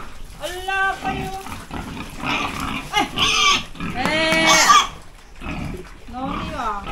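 Landrace and Large White pigs on a farm grunt and squeal in bursts, with a person talking over the animals throughout.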